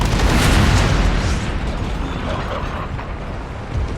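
Naval cannon volley from a ship in the game Empire: Total War, a sustained roar of overlapping booms loudest at the start and rumbling on with further blasts and a late thud, no talking.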